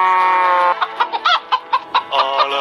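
Cartoon chickens from a kids' phone game make a long drawn-out call, then a quick string of loud, bouncy clucks in a bright, clean synthetic tone.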